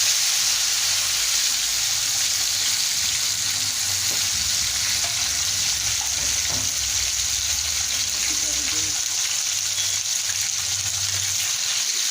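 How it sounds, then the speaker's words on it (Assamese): Fish fries in a pan in a home kitchen with a continuous loud sizzle that holds steady from start to finish, with faint clatter and a soft voice now and then. "এফালে এতিয়া মই মাছখিনি ফ্ৰাই কৰি লম"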